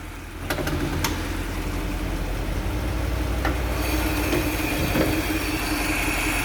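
A 3.5-litre Mercedes W108 280SE idles with its bonnet open, a steady low, even engine hum close up, with a few faint clicks and knocks over the top and no talking.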